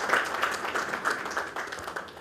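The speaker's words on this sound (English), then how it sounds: "I'd like to give you a big round of applause to Dil Mohammad sir." Scattered applause from an audience at a talk, a faint, thin patter of clapping that swells briefly in a few bursts and stays quiet overall.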